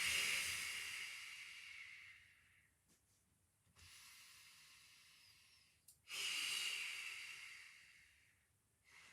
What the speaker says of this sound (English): breathe out as you bring it in